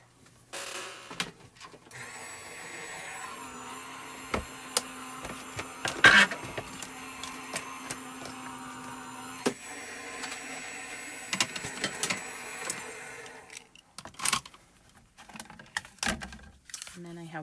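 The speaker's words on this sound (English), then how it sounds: "Put that in my die cutting system." A die cutting machine pressing foil with pressure and no heat, producing a steady mechanical whir with scattered clicks and clunks as the plates pass through, close by, with a person talking over it.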